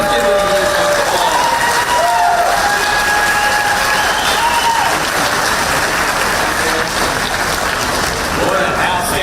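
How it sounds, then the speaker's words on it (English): A crowd at an indoor facility gives sustained applause, a dense steady wash of clapping with some cheering and a few scattered voices calling out over it. "let's give them a big applause"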